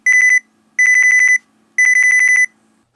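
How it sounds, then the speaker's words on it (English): Three loud electronic beep bursts from a Nikon camera's selectable shutter sound option, each a rapid chain of pulsing tones lasting under a second, separated by short silences. "And finally E, which is an annoying beep"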